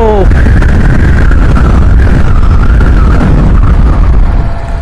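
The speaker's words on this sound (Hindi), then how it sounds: "नहीं सुन पा रहे, इतना हवा है।" Strong wind buffeting a rider on a BMW G310GS motorcycle on a Spiti Valley mountain road, a loud continuous roaring rush that masks everything, close to the microphone with no pause.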